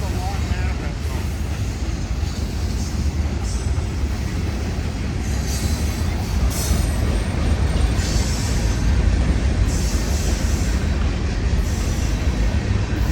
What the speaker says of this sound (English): And there goes the UP manifest train.